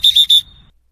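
A roller derby referee blows a quick burst of sharp, loud, short whistle blasts to signal a timeout, the blasts close together and heard alone.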